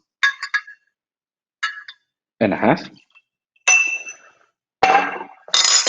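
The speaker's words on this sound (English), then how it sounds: "putting much more ice cube in order to have the perfect cocktail" Ice cubes clink into a glass for a Black Label whisky cocktail, several separate bursts of bright glassy clatter with pauses between, close and fairly loud, with no talk during the clinks.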